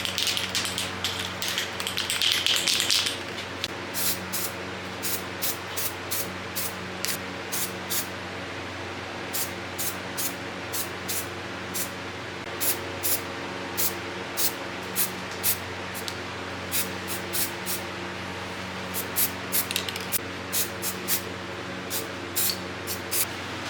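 A spray can hisses paint onto the frame of a 1992 Honda CR80R motorcycle, a steady close spray with an intense burst at the start and rapid ticking clicks repeating throughout.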